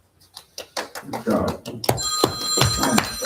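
A phone rings loudly and repeatedly during a homeowners association board meeting, the ringing overlapping with people talking and knocking sounds in the room.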